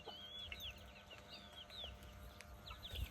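Chickens clucking softly nearby, a series of short chirpy clucks scattered through a quiet farmyard background.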